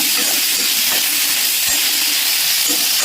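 Cowpeas roasting in a pan with a pinch of salt give off a loud, steady, close sizzling hiss that carries on without a break.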